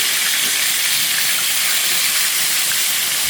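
Steaks browning in a hot frying pan: a loud, continuous close sizzle and hiss of searing meat, steady throughout with no talk.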